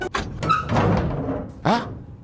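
Heavy bunker door opening in a survival video game, a sharp metallic clunk followed by a long grinding, rumbling slide and then a second thudding clank near the end, loud and close.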